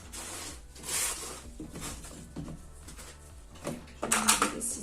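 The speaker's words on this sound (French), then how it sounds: "Je vais d'abord appliquer une couche de ma pâte de modelage sur la totalité de ma toile" A palette knife spreads modelling paste over a whole canvas for an abstract textured painting, giving close, intermittent scraping and smearing strokes in uneven bursts, with a busier flurry near the end.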